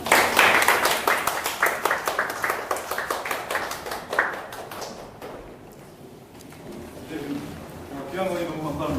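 Audience applause after a lecture: dense, loud clapping from many people fades over several seconds into quieter room sound, with talk emerging near the end.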